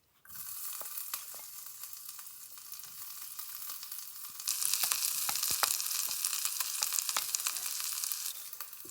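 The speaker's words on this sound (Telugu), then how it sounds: "జీరా ఫ్రై అవుతుంది." Cumin seeds sizzling in hot oil in a pan, a continuous crackling fry with scattered sharp pops, getting louder and busier partway through, close and steady with no voices.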